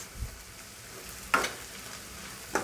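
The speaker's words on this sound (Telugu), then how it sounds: "ఆనియన్ మొత్తం కలిసేటట్లుగా 1 నిమిషం పాటు వేయించుకోవాలి దీన్ని" Onions fry in a pan with ginger garlic paste, a steady soft sizzle with two brief sharp scrapes of stirring, close by and without speech.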